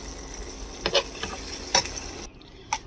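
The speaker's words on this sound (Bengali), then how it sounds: "এখানে আমি বেগুন ভাজছি।" Eggplant slices fry in oil with a quiet, steady sizzle, punctuated by a few brief scraping clicks of a utensil; the hiss cuts out abruptly near the end, with no one speaking.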